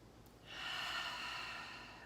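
A single slow audible inhale through the nose during a beginner yoga breathing exercise, swelling softly and holding steady near the listener with no talking.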